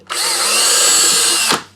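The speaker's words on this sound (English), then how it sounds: "We will pre-drill all of them" A power drill pre-drilling holes in a wooden soap mold whirs steadily at close range for about a second and a half, then spins down and stops.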